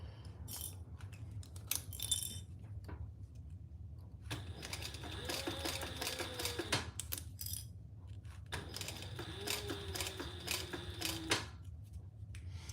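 Sewing machine basting fabric along the side of a project before lining goes on, running in two sustained bursts of steady, fine rhythmic stitching with quieter handling sounds between.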